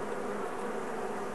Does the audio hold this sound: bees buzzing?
yes